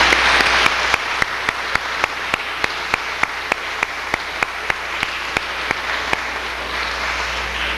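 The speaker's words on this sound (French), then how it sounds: "ça mérite qu'on s'applaudisse" Steady applause from an outdoor crowd at the inauguration of a millennium cross, with sharp, regularly spaced claps rising above a continuous wash of clapping.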